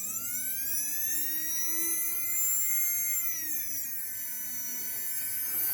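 A small 3 to 5 volt DC electric motor spins steadily with a high, thin whine and buzzy overtones, its pitch dipping briefly and recovering, close and continuous with no talk.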